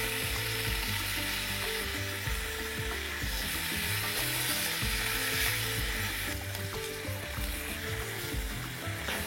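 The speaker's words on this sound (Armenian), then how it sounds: "ձիթայուղ ենք տաքացնում և տապակում մսակտորները" Meat pieces frying in hot olive oil in a pan, a steady, close sizzle with crackles, with occasional scraping and clacking as pieces are turned with chopsticks.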